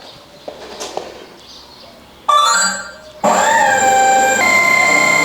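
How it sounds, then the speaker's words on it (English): Electric motors on an FPV RC wingsuit model spin up inside a wind tunnel: after some quiet handling noises, a loud high whine kicks in abruptly, drops out, then returns even stronger as a steady sustained tone. "we're just going to fire up the engines now"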